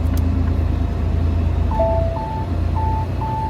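Repeated electronic alert beeps from a truck's side guard assist sensor sound over a loud, steady cab and engine rumble, coming in four evenly spaced short pulses near the end.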